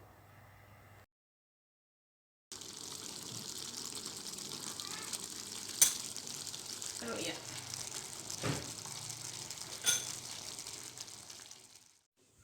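A steady sizzle of beef frying in a pan over medium heat for Jakarta-style semur hisses close by, with a few louder pops and crackles and a brief silent gap near the start.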